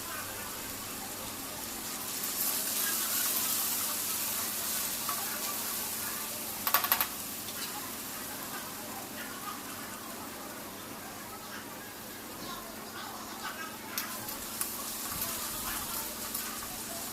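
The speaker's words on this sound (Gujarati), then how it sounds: "હવે લસણ અને લીલા મરચાંની પેસ્ટ નાખી છે." Garlic and green chili paste sizzles in a pan for a Gujarati cauliflower and potato curry. The frying hiss is soft and steady, with a few brief clinks and scraping stirs.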